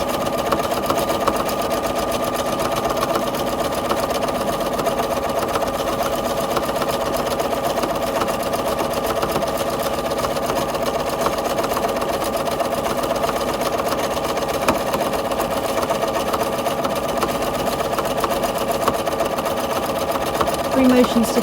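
A sewing machine free-motion quilting runs nonstop at an even speed, a loud close mechanical whir with a fast regular stitching chatter throughout, while a voice talks over it.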